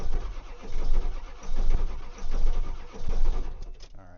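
A Ford 7.3 diesel truck engine cranks over and over in cold weather, a loud, close, rhythmic churning in repeated pulses that never catches, then stops.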